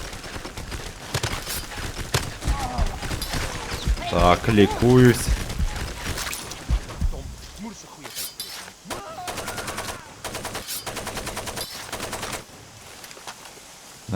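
Rapid bursts of gunfire in the video game Far Cry 2 crackle throughout, some sustained like automatic fire, with a person talking over it and game sounds mixed in.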